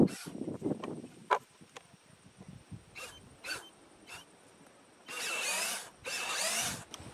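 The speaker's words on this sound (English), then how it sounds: "Now we can drill out the holes." Two sustained bursts of a power drill with a 9/64 bit whirring through wood, each about a second long, after a stretch of scattered clicks, taps and faint handling noises, while building an Adirondack chair.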